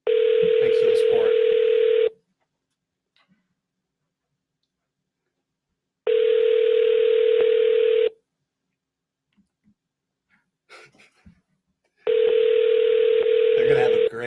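Three long, loud telephone tones ring out in separate bursts of about two seconds, each followed by a silent gap of several seconds, with a few faint clicks in between as a call is placed to voicemail.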